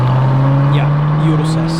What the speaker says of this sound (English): Grey Urus incoming.